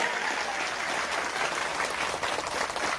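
Audience clapping during a religious lecture by a kiai, a dense, steady patter of many hands heard fairly distantly for a few seconds, with no talk over it.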